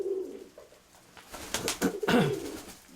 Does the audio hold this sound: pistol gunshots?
no